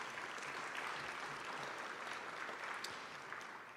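Audience applause for a county administrator and his team at a State of the Government address, a steady wash of clapping that stays fairly faint and even throughout, with no voices standing out.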